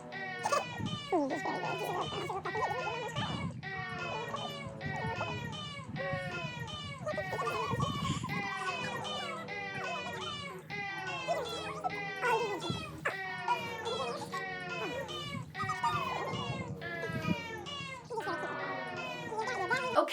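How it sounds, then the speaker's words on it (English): Cats meowing and caterwauling repeatedly for about twenty seconds, loud, overlapping, wailing calls in a steady rhythm with almost no pause between them. "I think it's time for some cat."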